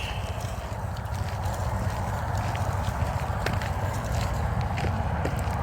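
A herd of cattle thunders past, hooves drumming the ground in a continuous, close, uneven patter.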